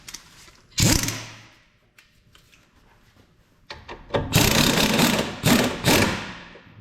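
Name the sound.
impact wrench tightening shock absorber bolt with torque stick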